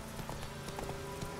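A short burst of horse hoofbeats from The Witcher 3, even and close, set against a droning ambient background.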